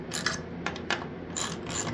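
Nuts being run onto carriage bolts with a ratchet while assembling a cedar porch swing: a few quick, close mechanical clicking bursts of ratcheting with short pauses between them.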